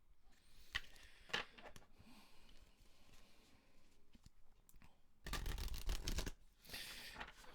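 Tarot cards being shuffled in quiet bursts, with a louder, denser riffle late in the passage; soft and close, with no voice over it.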